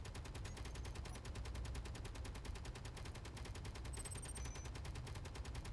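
Rapid automatic fire from an interior turret in Space Engineers: a steady, evenly spaced stream of loud shots running continuously for nearly six seconds, close and unbroken, with no talk.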